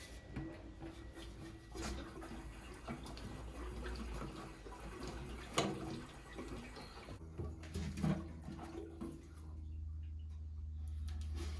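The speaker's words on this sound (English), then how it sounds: "I carefully pour the petrol into the bike." Petrol pours from a can into the fuel tank of a Millyard Viper V10 motorcycle, a steady close trickle and gurgle that runs for several seconds and then tapers off.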